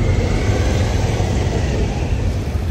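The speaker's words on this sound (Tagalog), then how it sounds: "So medyo nasa traffic tayo kaya maingay." Heavy road traffic during a busy shopping season, a dense continuous rumble of engines and vehicles close by, steady and loud throughout with no speech.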